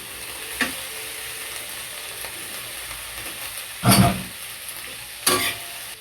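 Pechay stems dropped into a frying pan of sautéed tomatoes: a steady low sizzle, with two brief louder bursts of stirring and spatula clatter, and no voices.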